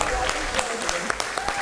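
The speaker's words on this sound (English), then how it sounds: "A big round of applause to the entire team" Audience applause at the valedictory ceremony of a national moot court competition: continuous clapping with sharp individual claps standing out, while a voice speaks over it.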